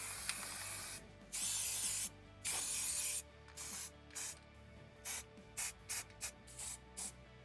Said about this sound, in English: I'm going to start spray painting